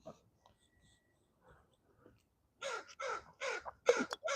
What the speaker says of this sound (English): Let me know if you can hear the crows.